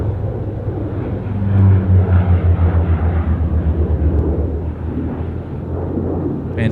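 An airliner takes off from a Sydney Airport runway, its jet engines a loud, steady, deep roar with a low rumble that swells slightly and holds throughout, with no voices.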